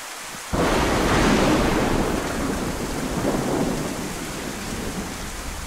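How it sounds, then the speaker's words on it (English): Thunder rolls in suddenly during steady rain in a video game set in Livonia, a loud low rumble that swells and lingers over dense rain hiss, close and enveloping, with no voices. "Oh wait, that was just thunder."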